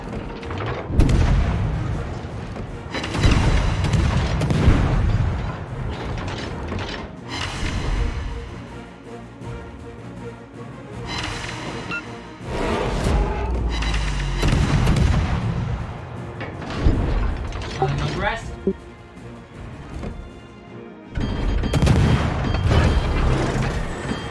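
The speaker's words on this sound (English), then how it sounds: "Concentrate fire on the enemy warship." Warship artillery in World of Warships, a clan battle at sea: heavy naval guns boom in loud, rolling broadband salvos every few seconds, with rumbling tails and mechanical clatter between volleys.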